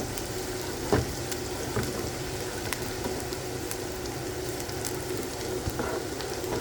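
Veal stew with vegetables and rice sizzling steadily in a pot, a constant soft frying hiss with occasional clicks of a stirring utensil, close and fairly quiet, no talk.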